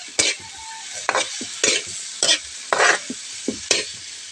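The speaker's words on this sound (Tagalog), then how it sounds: "haluin. Para manunin ang lasa niya." A spoon stirring pinakbet vegetable stew in a sizzling pan, with seven or eight sharp scraping strokes at a steady rhythm over a frying background, close and clear with no talk.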